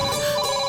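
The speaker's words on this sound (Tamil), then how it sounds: "அதோ போன் அடிக்குது" A telephone bell rings steadily and fairly loud in a domestic drama scene, a continuous electronic trill filling the whole moment with no talk over it.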